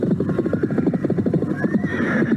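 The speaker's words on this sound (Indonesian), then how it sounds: "Kedua penunggang kuda yang baru tiba itu adalah dua orang dara" Horses neighing with the clip-clop of hooves as riders arrive, a close, loud whinny over steady hoofbeats.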